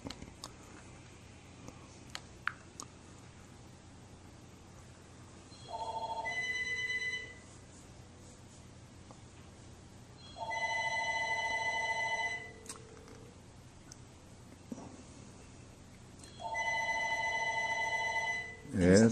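A cell phone rings three times in bursts of a few seconds each, separated by pauses, electronic tones heard close and clear over a quiet room hum.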